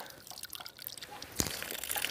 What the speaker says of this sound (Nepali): यत्रो पानी छ, हेर्नुहोस् पानी ठुलो छ